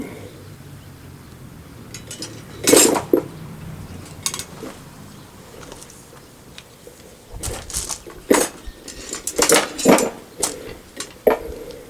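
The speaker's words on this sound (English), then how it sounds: "Actually, I believe I'll use these offset bolt tongs here." At a forge, a blacksmith handles metal offset bolt tongs while making a Christmas ornament. Irregular metallic clanks and clinks sound close by, sparse at first and then coming in quicker clusters, with no speech.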